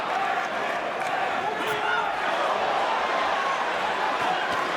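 A large crowd at a boxing arena roars and cheers steadily throughout a world title fight, a dense continuous wash of noise with no clear pauses.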